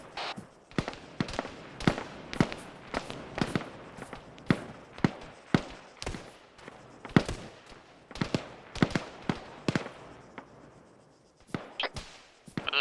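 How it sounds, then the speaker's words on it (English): Gunfire in the DayZ video game around active bunkers: a long series of sharp, separate shots in an irregular rhythm, some near and loud, others fainter, with no talk over them. "there's somebody shooting right here"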